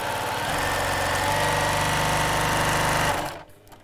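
A sewing machine stitches across the side of a curved-top tote bag, running at a steady fast buzzing hum, close and loud, then stopping abruptly near the end.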